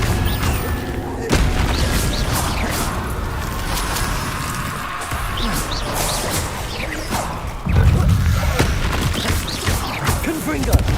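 Confringo blasting spells in Hogwarts Legacy set off a string of booming explosions and crashes, dense and loud, amid game effects with a voice talking over them.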